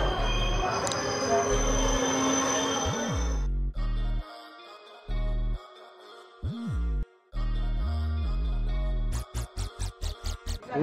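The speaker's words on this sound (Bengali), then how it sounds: "এই মুহূর্তে ট্রেন পৌঁছালো বহরমপুর ছাড়ার পর এটি এই ট্রেনের দ্বিতীয় স্টপেজ" The Dhano Dhanye Express, running from Lalgola to Kolkata, pulls into a station with a few seconds of rumbling train noise. It then gives way to choppy, tonal, music-like sounds with abrupt gaps.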